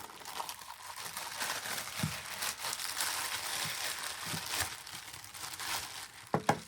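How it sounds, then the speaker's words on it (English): A plastic bag crinkles and rustles steadily while being handled to unpack a refurbished Snap-on CT725AQC 1/4-inch hex quick-change impact, with a few louder crackles near the end. "So, plastic bag."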